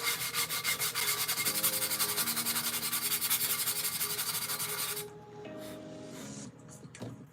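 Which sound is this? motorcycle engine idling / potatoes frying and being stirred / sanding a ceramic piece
sanding a ceramic piece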